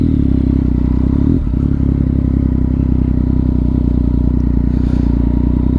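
Ducati Panigale sport motorcycle (1199 or 1299) being ridden, a loud, steady low engine drone with rattly clatter and a brief dip midway, no talk.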